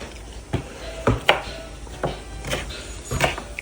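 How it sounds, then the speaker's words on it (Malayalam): Garlic and ginger for pickle are chopped with a knife on a board, producing a series of close, irregular thuds and taps with no talking. "അച്ചാറിനുള്ള വെളുത്തുള്ളി ഇഞ്ചിയൊക്കെ അരിയും ഒരുക്കൊക്കെ ചെയ്യാണ്"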